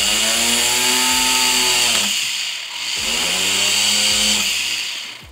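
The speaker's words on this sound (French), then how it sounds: "je vais venir faire un pré-perçage pour qu'elle vienne se positionner correctement" A power drill whines steadily while pre-drilling a silver 925 earring in a jewelry workshop, loud and close, its pitch dipping briefly in the middle as the drill slows and then speeds back up, with no talking.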